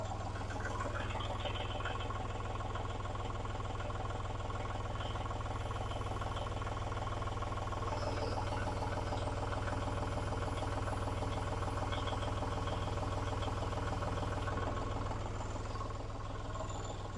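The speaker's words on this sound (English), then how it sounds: "if we hold back on the loader joystick, we're going to be raising the snowblower off of the ground" A Kubota tractor's engine drones steadily at close range while the front loader raises a mounted snow blower, with a constant mid-pitched hum and no talking.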